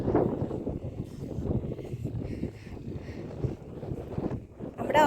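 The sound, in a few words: boat ride in the dark at Digha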